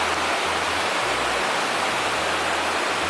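Steady broadband rush of water from a stream or runoff along the John Muir Trail near Garnet Lake, swollen by snowmelt, continuous and fairly close with no voices.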